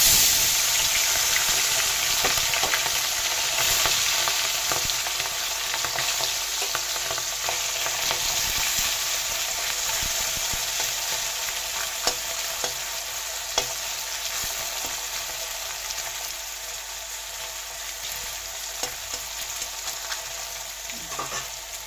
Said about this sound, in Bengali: মাছটা ভাজা হয়ে গেছে না, ভালোভাবে ভাজা হয়েছে